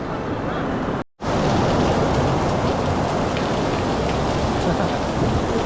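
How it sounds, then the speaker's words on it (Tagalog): Steady, dense rain pours at Universal Studios Singapore, a loud continuous wash that stays constant apart from one abrupt momentary dropout early on, with no talking. "Raining."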